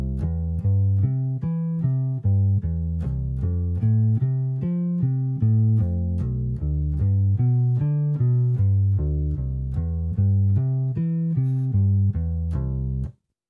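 On bass guitar, a steady arpeggio runs through chord inversions with clear, evenly spaced plucked notes that repeat for about thirteen seconds, played alone and close.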